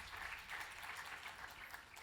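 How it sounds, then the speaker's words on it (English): Audience applause at a Digital Matters 2014 conference session, a steady, dense wash of clapping that holds evenly for the full stretch without any voices on top. "Round of applause, please."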